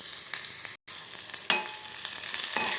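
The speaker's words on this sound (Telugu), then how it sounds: "ఇప్పుడు ఇందులో 2 చిన్న ఆనియన్స్ కట్ చేసుకొని వేసుకోవాలి" Two small chopped onions fry in oil in a pot for an eggplant curry, a close, steady sizzle with a few spoon taps and a brief dropout near the start.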